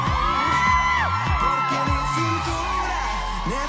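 A competition final's swimwear show audience screams and cheers in a loud, continuous wash of high-pitched shrieks and whoops, crowd noise filling the hall throughout.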